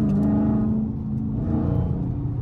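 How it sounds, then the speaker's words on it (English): A supercharged car engine hums and rumbles up close, with a steady tonal supercharger whine riding over the low drone as it revs slightly. "y'all hear my supercharger?"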